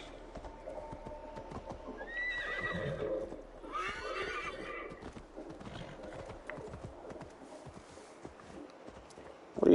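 A horse in Assassin's Creed Valhalla whinnies with a rising, shrill neigh amid steady clip-clop hoofbeats, fairly close, over a low game ambience with a faint voice now and then.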